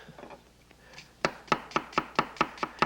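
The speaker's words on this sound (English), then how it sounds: "mince them up in fairly thin slices so they'll cook quickly" A knife chops carrot and onion into thin slices on a cutting board, several crisp, evenly spaced knocks following softer preliminary cuts, close and clear with no talking.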